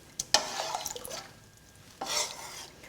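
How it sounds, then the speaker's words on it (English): A spoon stirs chopped ham into pea and ham soup in a pot, giving a few close wet scrapes and soft sloshing bursts, then a brief lull before another short stir. "Give that a stir."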